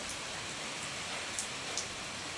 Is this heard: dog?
no